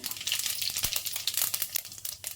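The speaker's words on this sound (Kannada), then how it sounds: "ಈಗ ಆಯಿಲ್ ಸ್ವಲ್ಪ ಬಿಸಿಯಾಗಿದೆ ಸ್ವಲ್ಪ ಜೀರಿಗೆ ಸೇರಿಸ್ಕೊಳ್ಳೋಣ" Cumin seeds hit hot oil and sputter in a lively, crackling sizzle, full of irregular sharp pops and spits that stay close and fairly loud throughout.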